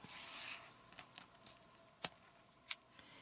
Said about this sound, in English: And then you're supposed to cut the zipper off right there. I'm going to use my craft scissors for that.